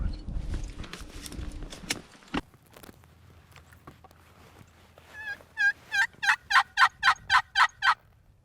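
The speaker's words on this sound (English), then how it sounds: "some birds gobble 100 yards to our right" Wild turkeys gobble in the woods: after some close rustling and quiet, a rapid series of about nine sharp gobbling bursts rings out clearly in quick succession.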